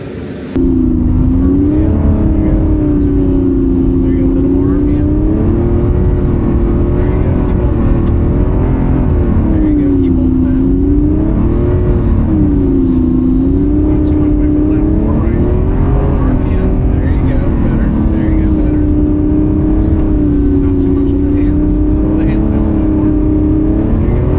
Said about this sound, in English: we're headed into the Revuelto for some donuts